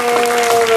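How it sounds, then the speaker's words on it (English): Brief burst of steady applause from a convention panel audience thanking voice actors, dense clapping with a faint tonal hum beneath. "Let's give a big round of applause and thanks to our boys"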